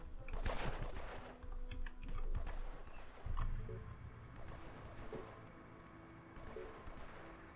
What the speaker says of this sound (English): that automatic fire from just all of them together like that is gonna be just absolute hell